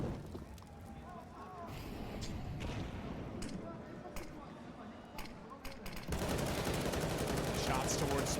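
Gunfire rattles in a Counter-Strike match on the Vertigo map at the IEM Rio Major 2022 as shots are fired toward smoke, bursts cracking over dense game noise while a caster talks throughout.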